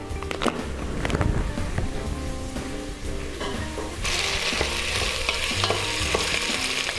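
Onion frying in olive oil in a small pot, a close, continuous sizzle that thickens and grows brighter partway through, with stirring clatter and scraping over it and no speech.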